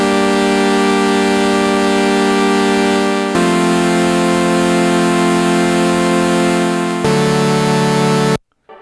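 A harsh, buzzing synth carrier used for a vocoder plays sustained bright chords alone, changing chord twice before cutting off abruptly.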